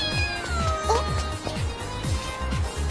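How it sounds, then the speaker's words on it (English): A cat meows several times in quick succession, close and fairly loud, with a wavering, slightly strained tone over a steady backing of music and ambience. "That's the cat from this morning."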